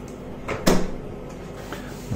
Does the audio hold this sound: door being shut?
yes